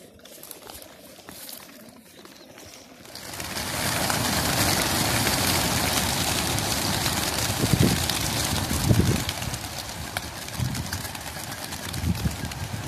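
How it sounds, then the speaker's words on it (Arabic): Homing pigeons in their loft make low cooing and fluttering, shuffling movement. The sound starts quiet, then a steady, noisy rustling bed rises with a few brief louder bursts. "تبارك الله على الحمام."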